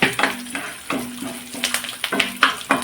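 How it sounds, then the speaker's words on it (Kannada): Cumin seeds frying in hot oil for a tempering, a close crackling sizzle broken by sharp stirring scrapes and clinks of a spoon against the pan. "ಒಂದು 3/4 ಟೀ ಸ್ಪೂನಷ್ಟು ಜೀರಿಗೆ. ಇದೀಗ ಫ್ರೈ ಆಗಲಿ, ಚೆನ್ನಾಗಿ ಫ್ರೈ ಆಗಲಿ ಇದು."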